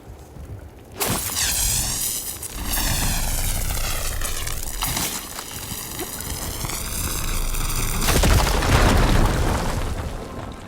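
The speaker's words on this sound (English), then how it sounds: "Should be able to blow up that fire gleam." A fire gleam is blown up in the video game Horizon Forbidden West, with a sudden booming blast followed by a long roaring rumble and a second surging burst near the end.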